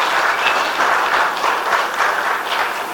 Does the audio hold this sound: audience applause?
yes